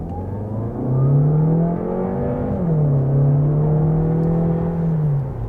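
A VW Passat Variant eHybrid accelerating, heard from inside as a steady rising engine and motor hum with one dip where the pitch drops and then climbs again.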